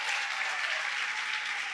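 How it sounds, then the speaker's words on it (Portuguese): A church congregation claps during a midweek service, a steady, even wash of many hands applauding together that fills the room without pause. "Você pode aplaudir ao Senhor"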